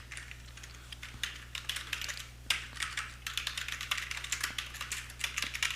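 Fast, irregular clicking of keys on a computer keyboard as a file name is typed, close and fairly quiet, with no voices.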